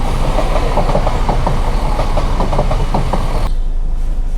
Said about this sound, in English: Train came.